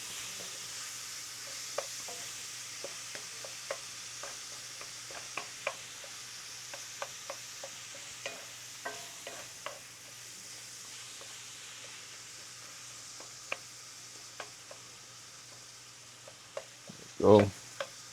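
Beef for a chopped cheese sizzles steadily in a hot pan while being stirred, with frequent light scraping ticks and a louder clatter of the utensil against the pan near the end.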